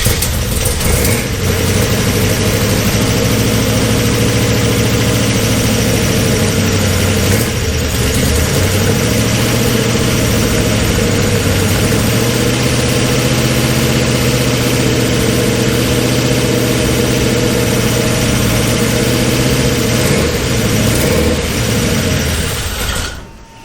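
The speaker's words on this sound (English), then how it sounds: "Doesn't want to idle, but it's running." The engine of the FrankenNova race car runs loud and close with a rough, uneven idle, a steady mechanical clatter and shifting rumble that carries on unbroken until it cuts at the end, with no talking.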